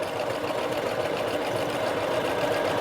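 A sewing machine runs a final stitch along a raglan sleeve seam for McCall's 7862, giving a steady, continuous mechanical whir at close range with no pauses.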